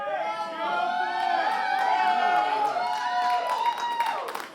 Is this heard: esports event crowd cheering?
yes